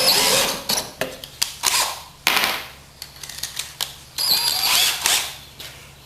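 A power drill drives small 3/4-inch Phillips head screws into wood while building a screen-printing table, heard as a series of close, loud whirring bursts separated by brief pauses.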